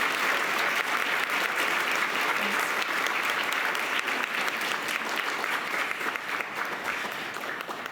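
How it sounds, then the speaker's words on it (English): An audience at a Martin Luther King Jr. Day writing awards event gives the winners a sustained round of applause, dense, even clapping at moderate volume for the full stretch, easing slightly toward the end. "I would love for us to just give them a round of applause for their work"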